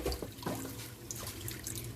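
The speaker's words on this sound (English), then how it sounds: "Right now we're rinsing the chana under the water in a strainer." Tap water runs steadily into a strainer of chickpeas being rinsed, splashing and trickling close by, with no voices.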